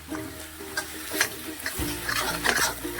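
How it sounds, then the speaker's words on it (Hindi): Black soybeans being dry-roasted on low flame in an iron kadai, a soft sizzle with scraping and rattling of beans as they are stirred, close up, with a low hum entering partway through. "और इसको हम अच्छे से भून लेंगे इसमें इस तरीके से। आँच इसकी धीमी ही रखना,"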